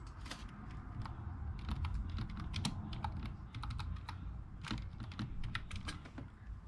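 Rapid, close clatter of keys as a search is typed on a computer keyboard, in quick bursts with short gaps and no talking.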